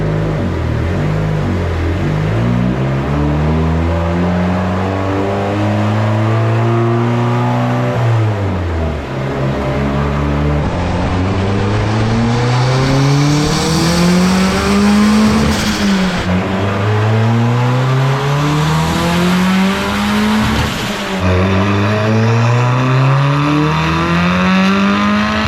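A turbocharged Honda Civic pulls hard in second gear, its engine note climbing steadily through the revs in repeated sweeps with brief dips at each shift or lift, loud and close throughout with no talking.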